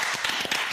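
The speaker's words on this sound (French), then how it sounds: "On va applaudir." Group applause on a French TV show set, a dense burst of many hands clapping at close range, steady and lively through the short moment with no talking.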